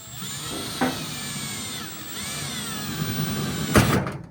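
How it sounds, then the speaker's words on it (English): A power drill bit punching a hole through a battery charger case, a steady whining motor with pitch shifts as it bites, a couple of sharp knocks and a loud crunch near the end. "that was just the drill bit going through"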